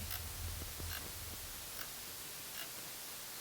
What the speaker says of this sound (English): a faint, rhythmic series of clicks, static, and what sounded like a child whispering